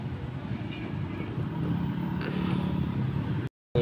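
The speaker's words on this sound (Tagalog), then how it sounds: "Pinaandar natin yung Nissan Navara." A Nissan Navara engine idles with a newly replaced turbocharger, a steady low rumble up close that cuts out briefly near the end.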